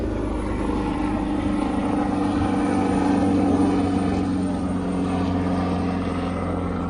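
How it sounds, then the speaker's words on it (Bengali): A helicopter passes overhead near the sea at Cox's Bazar, a steady droning rotor and engine hum that holds fairly loud and constant throughout, with no one talking. "হেলিকপ্টার যাচ্ছে একটা"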